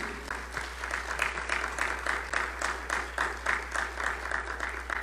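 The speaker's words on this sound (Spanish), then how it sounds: "Mandémosle un aplauso a ellos como bienvenida." A church congregation claps steadily in welcome, a dense, even wash of applause holding for several seconds at moderate distance with no voices over it.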